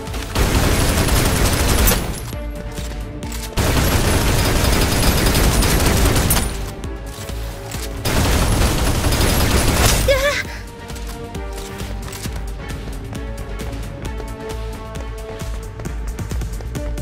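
Loud bursts of rapid automatic gunfire in Snowbreak Containment Zone, coming in several long volleys separated by brief lulls, with game music and talk underneath.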